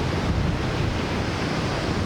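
Steady roar of ocean surf at Jacksonville beach in the early morning, a continuous broadband wash of breaking waves mixed with wind rumble on the microphone, with no voices.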